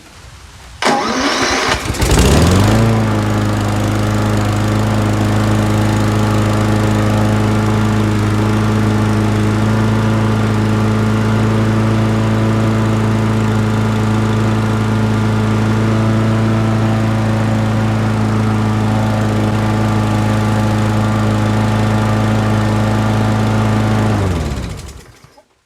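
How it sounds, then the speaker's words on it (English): A Toro Recycler lawn mower previously suffering an intake leak starts with a short pull and then idles steadily and smoothly for over twenty seconds, loud and near, before the engine cuts off. "It is definitely running nice and smooth now."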